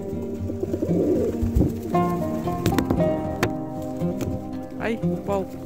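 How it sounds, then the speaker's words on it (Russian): Pigeons coo softly and flutter up close while being hand-fed on a winter embankment, with sharp wingbeats and scuffles, as people talk nearby over the birds. "Голуби голодные, они тут никогда на руках не сидели"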